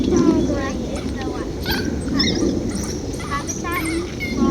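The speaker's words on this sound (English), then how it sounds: "Wild dogs at play." African painted dogs play at the Phoenix Zoo, giving repeated high yips and whimpering squeals in quick bursts, with people talking nearby.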